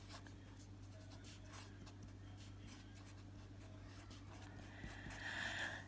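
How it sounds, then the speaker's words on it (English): A pen writing on paper while working a calculus problem, a soft steady scratching with short strokes, close and quiet against a low constant background hum. "I'm going to write this down"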